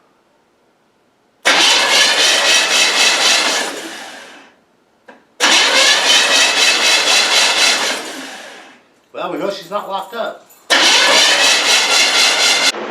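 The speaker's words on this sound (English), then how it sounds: "Let's see if she'll spin over" An old 1967 Pontiac Firebird engine, long abandoned, cranks over in three long, loud grinding bursts separated by pauses, with someone speaking briefly between them.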